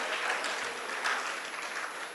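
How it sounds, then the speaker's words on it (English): A large hall crowd of about 750 engineering students at a youth empowerment seminar applauds, a steady dense wash of clapping that stays even and moderately loud for the full two seconds. "So big round of applause for all of you here."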